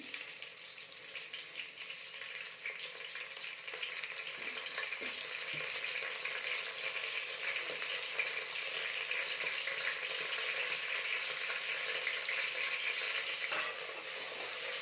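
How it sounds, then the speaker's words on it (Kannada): Fenugreek leaves and onion fry in oil with a continuous bright sizzle that grows slightly louder and denser, with soft occasional stirring taps near the start; close and steady, no speech. "ಈ ಥರ ಮೆಂತ್ಯ ಸೊಪ್ಪನ್ನ ಎಣ್ಣೆಯಲ್ಲೇ ಫ್ರೈ ಮಾಡಬೇಕು, ಆವಾಗ ಕಹಿ ಬರಲ್ಲ"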